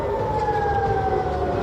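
Air raid alert sirens sound in Tel Aviv after a missile attack, a loud, continuous wailing tone holding steady with a slowly gliding pitch over a dense rumble of background noise, with no voices.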